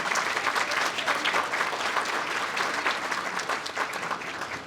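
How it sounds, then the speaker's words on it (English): Audience applause at the East Alabama Chamber of Commerce 2022 annual meeting, a dense, steady clapping from a crowd filling the room, sustained at even loudness throughout without talk. "Would y'all please give her a round of applause?"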